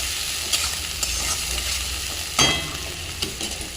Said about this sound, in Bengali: ডিমগুলো তুলে নিয়ে ছোটো ছোটো করে কুচনো পেঁয়াজ ভালো করে লাল লাল করে ভেজে নিতে হবে